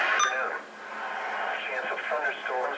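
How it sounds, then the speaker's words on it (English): A tinny radio broadcast of a voice speaking, with a narrow band-limited sound typical of a weather channel on a small receiver. "This one also has the weather on it, so let's turn that up."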